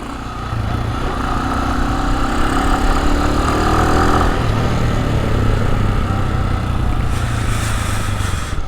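A 100cc motorcycle ridden on a road, its engine droning steadily and fairly close throughout, with a brief hiss of passing traffic near the end.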